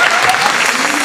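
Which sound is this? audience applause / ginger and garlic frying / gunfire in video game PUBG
audience applause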